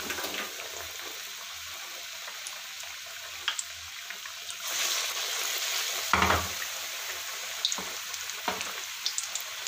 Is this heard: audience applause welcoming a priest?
no